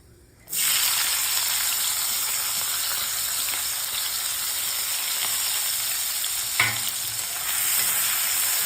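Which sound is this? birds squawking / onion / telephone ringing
onion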